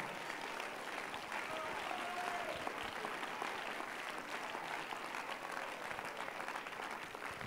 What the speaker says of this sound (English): Somebody ought to clap their hands to the Lord